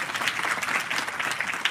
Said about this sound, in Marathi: त्यांच्यासाठी एकदा सर्वांनी टाळ्या वाजवल्या